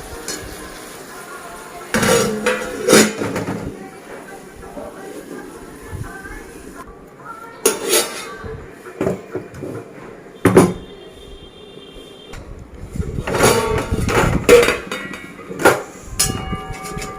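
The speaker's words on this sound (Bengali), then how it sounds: "এবার একটু ঢাকনা দিয়ে ঢাকা দিয়ে দেবো।" A cooking pot's lid handled while jute leaves cook, with several loud clattering bursts of metal contact separated by quiet stretches and a soft background hiss.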